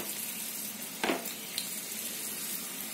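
Hot oil sizzling in a pan with onion for spicy masala bheja fry, a steady soft crackling hiss with one brief sharper splutter partway through.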